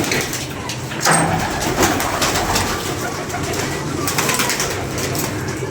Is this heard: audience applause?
no